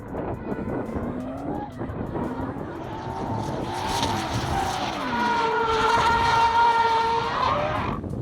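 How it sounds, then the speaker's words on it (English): A drift car spinning out into a donut, engine note rising and holding high while tires squeal in long sustained wails, loud and continuous. "Spin out and then proceed to do a donut."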